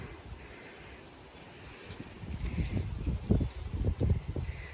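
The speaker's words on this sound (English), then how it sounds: "Very, very windy." Gusty wind buffets the microphone in a garden in the Scottish Highlands, a low rumbling roar that swells and surges louder in the second half, with no voices.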